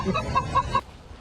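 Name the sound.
chicken clucking in a Ratchet & Clank video game ad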